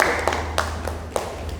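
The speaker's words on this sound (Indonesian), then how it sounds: "Tepuk tangan untuk kelompok 1" A small classroom group claps briefly after a presentation, a few sparse, uneven hand claps at close range over a low background hum.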